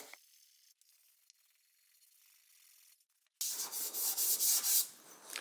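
Quiet faint noise gives way to loud, harsh rhythmic scraping of sanding clear coat off a tank, strokes repeating steadily near the listener.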